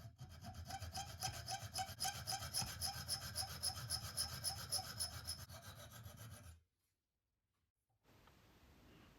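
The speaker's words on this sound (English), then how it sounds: "file the sides, each side of the blade using a file" A hand file rasps in a steady back-and-forth rhythm across the side of a small blade clamped in a vise, close and continuous, then stops abruptly and gives way to quiet.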